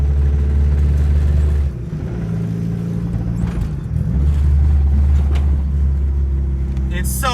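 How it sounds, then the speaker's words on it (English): Nissan Sentra with a badly damaged SR20VE-T engine idling with serious rod knock, a loud low rumbling drone near the microphone with someone talking over it. "don't know if you can hear the rod knock, but it's serious."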